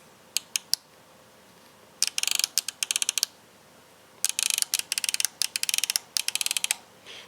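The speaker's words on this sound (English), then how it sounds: "That MTC click results in a heavy click every full mil. So the 10th mil clicks in between are very tactile and audible." A premium tactical riflescope turret is dialed by hand, giving quick runs of sharp, close mechanical clicks at each tenth-mil step, with a heavier detent at each full mil. The clicks come in several bursts separated by short pauses.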